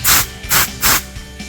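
An Alspray air spray nozzle in a shop gives three loud, hissing bursts of compressed air in quick succession, each about a fifth of a second, close to the microphone.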